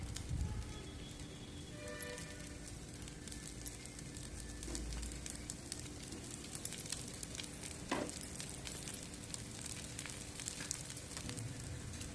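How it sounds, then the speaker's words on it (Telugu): Maggi cutlets fry in a pan over a medium flame, a soft steady sizzle with faint crackles and an occasional clink, quiet and close throughout. "మీడియం ఫ్లేమ్లోనే వేయించుకోవాలండి"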